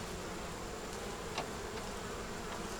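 Honey bees drone in a steady, dense buzz inside an open hive with a screen bottom, loud and close, continuous and unbroken throughout.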